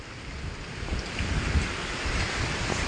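Strong typhoon wind roars outdoors beside a raised fishpond dike in Malolos, Bulacan, a steady broadband rush with gusts buffeting the microphone and a low rumble, no voices.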